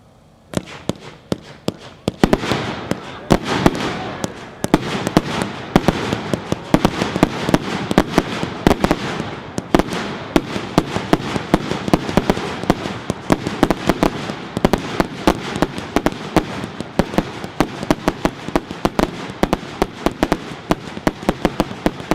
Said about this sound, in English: Number 11 is a 2-1, 100 shot fan cake.